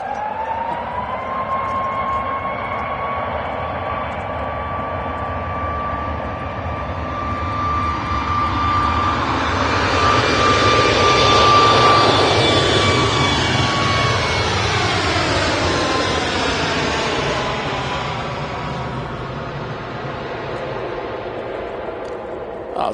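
A jet airliner takes off at Manchester Airport, a whining engine tone swelling into a loud roar that peaks midway and then fades slowly into the distance, with little talk.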